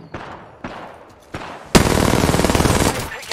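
Automatic weapon fire in the video game Apex Legends, a few separate shots first and then a loud, sustained rapid burst, close and dense.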